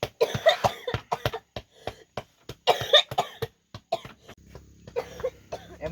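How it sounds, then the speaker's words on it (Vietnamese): A person coughs repeatedly in a rapid series of sharp, close bursts with short pauses between them, loud and alone with no talking. "Em chỉ bị ho tí thôi"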